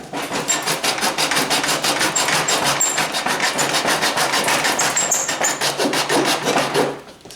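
A part is sanded by hand on 80-grit sandpaper stuck to a table top during a 1977 Camaro Z28 restoration, a steady rhythm of about twenty close, loud rasping back-and-forth strokes that stops abruptly near the end.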